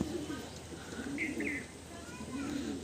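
Pet pigeons kept as a hobby at a friend's house coo softly in a few low, rolling calls with faint chirps, under low background noise and a little talk.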